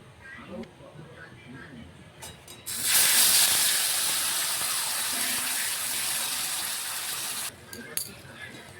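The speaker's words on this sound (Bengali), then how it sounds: "এবারে এই ডিম ভাজা তেলের মধ্যে আমরা এখানে এই পেস্টটা দিয়ে দেবো" Quiet at first, then a loud burst of sizzling as spice paste hits hot oil left from frying eggs for egg curry, a steady hiss holding for several seconds before cutting off.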